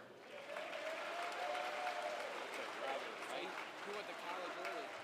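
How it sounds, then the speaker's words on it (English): A gymnasium crowd at a high school boys basketball game applauds the senior cheer and basketball team members, a steady wash of clapping and cheering with crowd noise mixed in throughout. "Please join me in one more round of applause for the senior members of our cheer program and boys and girls basketball team"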